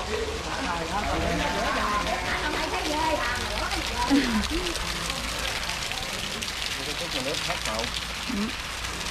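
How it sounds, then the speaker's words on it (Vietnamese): Steady rain patters and hisses continuously in the background while several people talk loudly over it nearby. "Nó đầy mưa à"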